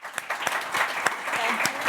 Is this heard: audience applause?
yes